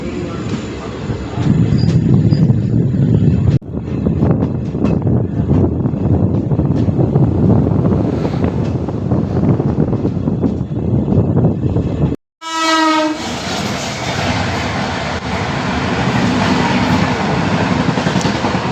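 An Intercity Express passenger train runs on after leaving Tumakuru station, a loud, steady roar and rumble of wheels on track with wind buffeting throughout, a brief dropout, then a strong horn-like tone and continued running noise.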